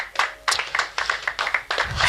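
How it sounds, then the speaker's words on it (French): Church congregation clapping together in worship, a quick steady run of handclaps, fairly close and unaccompanied by talk. "Applaudissons pour la gloire de Dieu."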